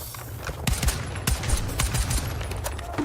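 Rapid gunfire in an online shooter game crackles in dense bursts and single cracks throughout, loud and close, with no talking over it.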